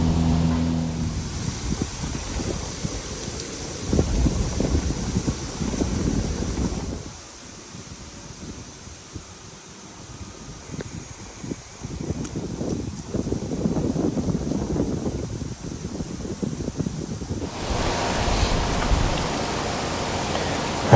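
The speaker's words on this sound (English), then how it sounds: "The wind is whipping really good." Strong wind whips through Pennsylvania woods, gusty roaring rushes that swell and ease with a quieter lull in the middle, with heavy buffeting on the microphone.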